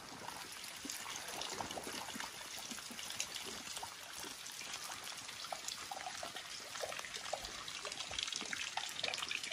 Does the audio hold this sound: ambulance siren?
no